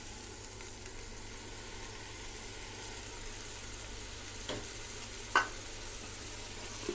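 Tomato juice stirred into a frying chicken biryani masala in a home kitchen, a steady quiet sizzle with soft stirring scrapes and one brief sharp clink near the end.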